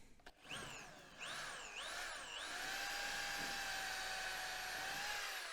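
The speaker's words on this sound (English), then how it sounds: "Quick hammer drill." A hammer drill whines up to speed in a few short bursts, then runs steadily at a high pitch drilling for a concrete screw, close and fairly loud.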